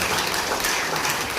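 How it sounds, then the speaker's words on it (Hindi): An audience at a presentation breaks into applause, a dense, hissing wash of clapping that stays steady and fairly loud throughout, with no talk over it. "तो सिस्टम के लिए जबरदस्त ताली दी जाएगी"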